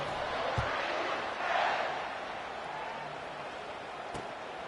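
Home crowd noise in an NCAA college football video game, a steady, moderately loud roar that swells briefly, with a couple of sharp thuds and no one speaking.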